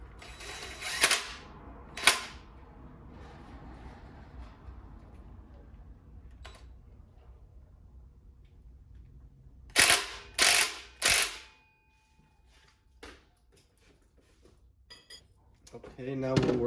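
An impact gun drives an oil pump bolt during a K20 Type S pump install on a K24 engine, giving sharp, close bursts of rattling hammering in short clusters, with quiet clinks and gaps between.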